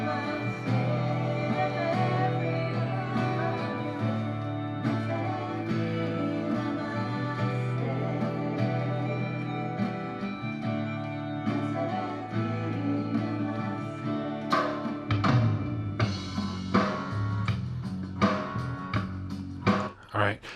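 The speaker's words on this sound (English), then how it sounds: "I could just click crossfade and it'll automatically crossfade those two songs for me." Music from DJ software fading automatically from one song into another, a dense continuous mix that shifts midway into a sparser beat-driven track with sharp percussive hits.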